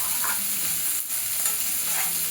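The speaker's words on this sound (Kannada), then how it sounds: "ಇದನ್ನ ಸ್ವಲ್ಪ ಚೆನ್ನಾಗಿ ಫ್ರೈ ಮಾಡ್ಕೊಳ್ತೀನಿ. ಒಂದು ಸ್ವಲ್ಪ ಡಾರ್ಕಾಗೆ ಈರುಳ್ಳಿ ಸ್ವಲ್ಪ ಡಾರ್ಕ್ ಕಲರ್ ಬರಬೇಕು" Onions frying in a pan for egg gravy, a steady close sizzle with soft scraping as they are stirred, no voices.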